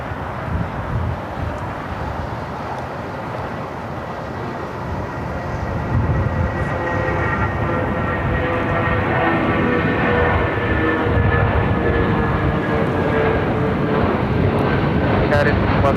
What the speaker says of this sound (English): I've got that United Star Alliance 757-200 now taking off 25 right.